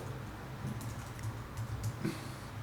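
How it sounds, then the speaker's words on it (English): Typing on a computer keyboard while making a real estate flyer, a soft run of light, irregular key clicks under a low steady background hum, fairly faint and close. "you create the text, you can type whatever you want"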